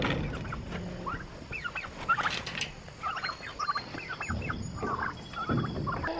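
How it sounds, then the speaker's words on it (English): A flock of turkeys gobbles in repeated overlapping bursts, loud and close, with clucks and fluttering between calls. "You ready to let out the turkeys, Mr. Brown?"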